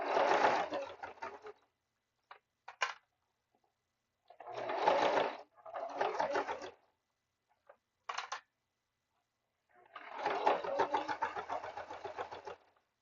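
A sewing machine sews a basting stitch in short, rapid rattling bursts separated by silent pauses, with a few isolated clicks in between.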